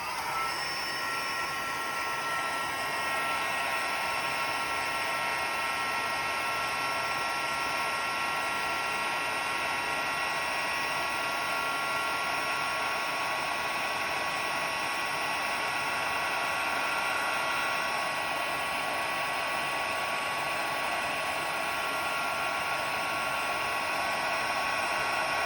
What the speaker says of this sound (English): this is going to get a little bit noisy because I've got the heat tool